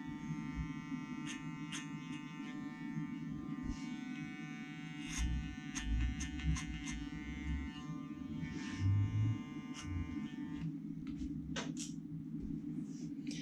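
Electric hair clippers cutting hair clipper-over-comb during a men's medium-length haircut, a steady close electric buzz with faint clicks and brief rustling bumps, no one talking.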